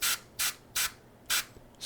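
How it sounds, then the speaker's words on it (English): An airbrush sprays light orange paint on a miniature in four short, close hissing bursts, each about a quarter second long with brief gaps between them, no voices. "spray real light color going up"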